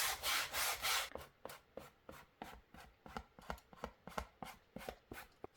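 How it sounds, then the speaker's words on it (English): Sandpaper rubbing the edges of a layered paper journal topper, first a long continuous scratchy scrub, then a rapid series of short rasping strokes in an irregular rhythm, close and quiet. "I want to sand these edges off."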